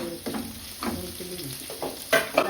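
A large onion fries in a pan with garlic and ginger for a home brinjal curry, with a soft, close sizzle broken by scraping stirs of a spoon and a few sharper clinks.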